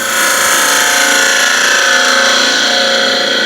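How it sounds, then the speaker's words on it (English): A scraper shear-scrapes the inside wall of a wooden bowl being hollowed on a spinning lathe, a loud, continuous, harsh hissing scrape that holds steady throughout. "As I move away, I can drop the handle down, and now I'm basically shear scraping the side here."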